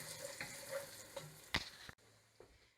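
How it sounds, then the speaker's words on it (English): A very thick spaghetti sauce mixture being stirred, a faint, close sequence of scraping and light clacks with one sharper knock, then dropping to near silence. "And you just keep stirring."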